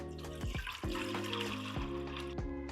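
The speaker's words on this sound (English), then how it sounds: "Add fresh drinking water." Fresh drinking water from a tap filling the detachable water tank of a Budan CM X7 coffee machine, a steady close trickle and splash running throughout, with no voices.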